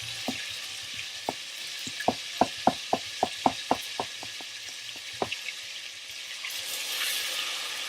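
Oxtail fries in a pot with a steady hiss, broken by a quick run of sharp crackles and pops that fade into an even sizzle; no one speaks.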